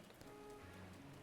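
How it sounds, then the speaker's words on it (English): Rain falls in Zelda Breath of the Wild, a soft continuous patter on surfaces with a faint tonal game sound underneath and no speech. "And now it's raining. It's even thundering."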